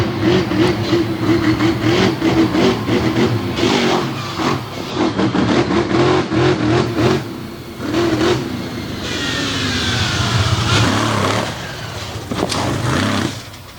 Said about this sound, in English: Listen to this motor one more time.